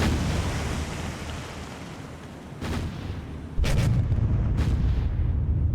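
Heavy naval gunfire from the Lion and Nagato battleships in the game War on the Sea: several deep booms about a second apart, each one sharp and broad, over a steady rumble of sea and engine noise.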